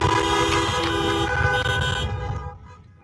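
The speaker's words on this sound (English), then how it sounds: "a honk would be appropriate" A car horn honks in a long, steady blast outdoors at a 2020 graduation celebration, loud and close, then cuts off and fades into quiet.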